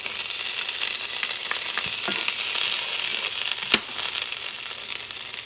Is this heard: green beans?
yes